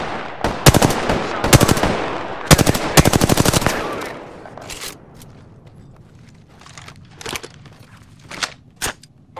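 Rapid automatic gunfire in a shooter video game, loud clustered bursts early on that thin out into scattered, fainter single shots.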